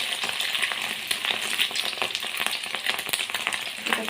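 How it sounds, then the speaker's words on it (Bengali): Fish egg pakoras dropping into hot oil with onion, sizzling and bubbling in a dense, continuous crackle, close and loud, no talking. "এদিকে আমার তেলটা গরম হয়ে গেছে"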